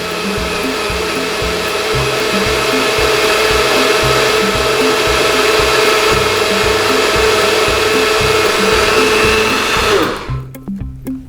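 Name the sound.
NutriBullet blender blending a breakfast smoothie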